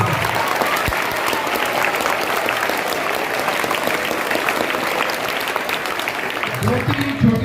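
An audience at a school event in East Delhi claps in sustained, steady applause that fills the room, with some voices mixed in under the clapping.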